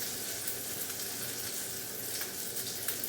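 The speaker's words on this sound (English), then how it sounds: "Oh, I hear that sizzle." Couscous patties sizzle steadily in a hot frying pan, a continuous crackling hiss with small pops and no talking.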